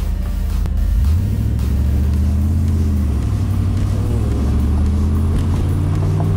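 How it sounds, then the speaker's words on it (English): A Pontiac Trans Am V8 fitted with Flowmaster exhaust runs steadily up close, its deep rumbling idle briefly rising in pitch as the engine is revved, with no talk over it. "Might have put some flow masters on this so it sounds a lot better than just stock."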